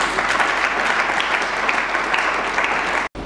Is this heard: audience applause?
yes